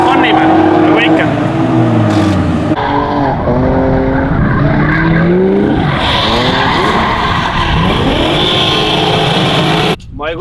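A turbocharged BMW E36 race car laps a track, its engine rising and falling through repeated gear changes with loud revving, tire squeal and skidding close by, continuing steadily until a sharp drop near the end.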